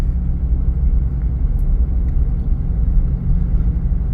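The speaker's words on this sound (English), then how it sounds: "I just set it in neutral and use the brakes and just ease down the hill." Truck coasting downhill in neutral on Yokohama Geolandar X-AT all-terrain tires, a steady low rumble of tires and drivetrain from inside the cab, loud and even throughout with no talking.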